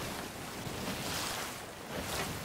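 Ocean waves in the Sea of Thieves pirate sailing game, a steady rushing wash of surf and wind around a sailing ship, moderately loud and continuous, with no voices.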